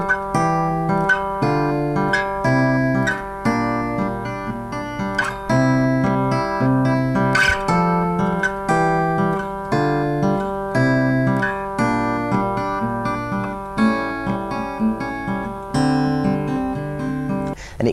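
Acoustic guitar fingerpicks the third section of a song, a steady, continuous melody over a bass line with ringing open strings, played solo and close for the full length.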